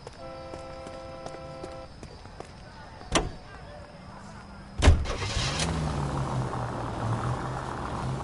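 Nash car in the video game L.A. Noire, a door thud and then the engine starting and settling into a steady low idle hum, with a faint drone and clicks beforehand.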